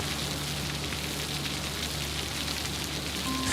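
Heavy rain pouring at Sydney Airport, a dense, constant hiss of drops striking surfaces, loud and steady throughout, with a faint low hum beneath.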